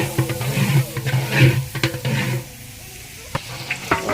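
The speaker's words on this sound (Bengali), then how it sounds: "দেখুন পেঁয়াজ দেওয়া হলো, পেঁয়াজ দিয়ে দিচ্ছে। দেখুন বড় একটা হাত দিয়ে নাড়াচাড়া হইতেছে।" Onions stirred in a large pot with a big hand ladle as they fry, giving a busy sizzle with scraping clatter and sharp knocks that thin out toward the end, close up and with no talking.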